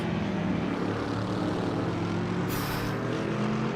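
Ford Mustang V8 GT3 race car in the iRacing simulator, its engine giving a continuous, steady drone at moderate volume with no voices over it.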